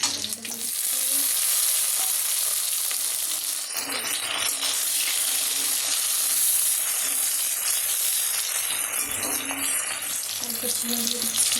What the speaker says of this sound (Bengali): এখন এই অবস্থাতে আমি এর মধ্যে দিয়ে দিচ্ছি রসুন।